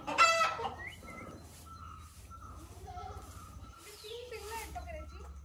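Chickens cluck and a rooster crows at a village-style agrotourism farm resort near a dam in Sawantwadi, with the birds heard faintly and intermittently while people talk close by.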